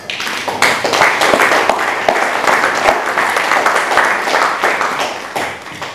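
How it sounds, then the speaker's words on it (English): Loud, close applause from an audience at an evening event with a boxer, many individual hand claps crackling together in a sustained burst. "I think the Air Force deserve a round of applause."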